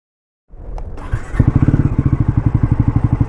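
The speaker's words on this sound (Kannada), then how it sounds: "ಇಂಜಿನ್ ಸೌಂಡ್ ಈ ಥರ ಕೇಳಿಸುತ್ತೆ" A Bajaj Pulsar NS400Z motorcycle with a 349cc engine fires up after a brief crank and settles into a loud, steady idle with a fast, even pulsing beat, close by.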